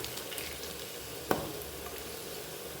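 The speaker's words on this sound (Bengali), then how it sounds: "এটা কড়া করে ভাজতে হবে।" Coriander leaf pakoras deep fry in hot oil with a steady soft sizzle and one brief clink of a utensil midway, close by and with no talk.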